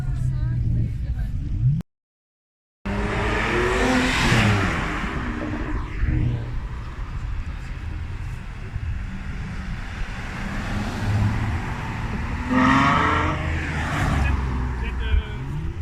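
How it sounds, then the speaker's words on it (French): A car with a 5-litre V8 engine rumbles at a car meet in Fleury-les-Aubrais, with engine noise rising as vehicles pass by around the middle and near the end, under ongoing talk and a brief dropout to silence early on. "C'est un V8 5 litres là-dedans."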